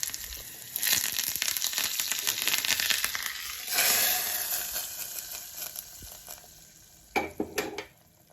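Tempering spices sizzle and crackle in hot oil for sambar, a dense continuous hiss with scattered pops and a few sharper stirring clatters near the end, with no talk.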